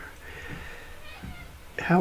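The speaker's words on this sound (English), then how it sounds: "My cat's outside crying." A cat crying outdoors, a few faint meows at a distance followed by a louder, nearer cry at the end, with no talk over it.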